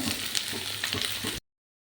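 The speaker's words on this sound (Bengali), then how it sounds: "জিরেটা দিয়ে প্রায় পনেরো থেকে কুড়ি সেকেন্ড সব কিছু একসঙ্গে এরকম ভাজা ভাজা করে নেবেন" Cumin and spices fry in oil in a pan for an egg tarka, giving a steady close sizzle with a few stirring scrapes before cutting off abruptly.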